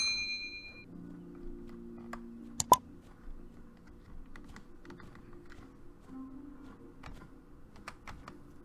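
Keys clatter on a computer keyboard while playing the survival game Pine, a quiet, close run of uneven clicks with a couple of sharper taps and a soft tone in the background, no speech.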